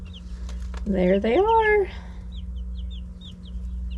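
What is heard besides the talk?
chickens clucking under the brooder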